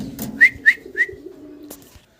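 Caged pigeons give three short rising coos in quick succession, close and clear, followed by a soft rustle and then quiet.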